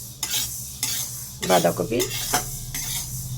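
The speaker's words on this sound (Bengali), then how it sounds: "মুগের ডালটাকে আমি ভেজে নিচ্ছি" Mung dal being dry-fried in a pan, with a soft sizzle broken by repeated scrapes and clinks of a spatula stirring against the metal, close up; a brief voice is heard partway through.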